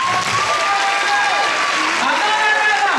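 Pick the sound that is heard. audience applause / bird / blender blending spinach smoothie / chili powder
audience applause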